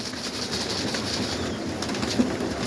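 Soft pigeon coos murmur inside a dovecote over a steady rustling background, with a few brief flutters and scuffles near the end.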